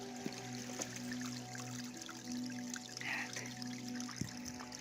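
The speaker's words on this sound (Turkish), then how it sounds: "önümüze mini minnacık bir tane dere çıktı" A small stream trickles outdoors in Norway, a faint, steady babble with light splashes under a low background hum.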